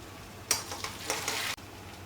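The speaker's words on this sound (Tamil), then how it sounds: "கடுகும் சீரகமும் பொரியுது." Mustard seeds, cumin, curry leaves and green chillies fry in hot coconut oil, giving a crackling sizzle with bursts of popping and a faint stir, close and steady, with no talk.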